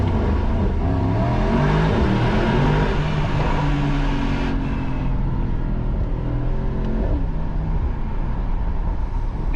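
Mercedes-AMG SL 63 (2025) engine revving inside a tunnel, a loud, continuous deep roar with rising and falling pitch that booms and reverberates off the walls throughout.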